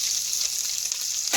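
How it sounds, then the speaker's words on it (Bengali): Garlic and onion with nigella seeds frying in hot oil for a cauliflower mash, a bright continuous hiss of close, loud sizzling throughout. "রসুনটা একটু হালকা ভাজা হবে, দিয়ে আমি এই পেঁয়াজটা দিয়ে দেবো। পেঁয়াজটা একটু ভেজে নেব।"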